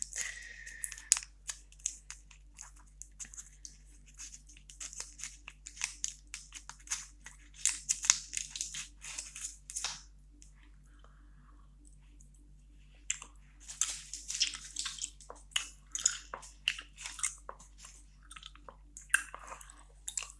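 Close, wet gum chewing and crinkly mouth sounds come in uneven bursts, with quiet gaps between and a low steady hum underneath.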